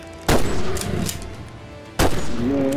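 Two loud, close gunshots fired at a yeti in the video game Bigfoot, each a sharp blast with a short rumbling tail, spaced about two seconds apart.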